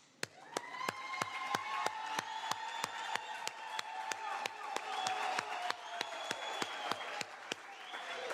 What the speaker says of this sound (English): the whole hall must stand up and give her a round of applause